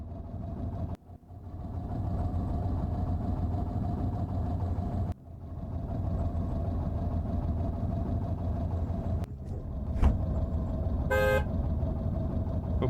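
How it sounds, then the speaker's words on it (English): Car horn honking in the video game Cataclysm: The Last Generation, a short burst near the end of the clip, rising over a steady engine idle and hum. "Some more honks, and we're on our way."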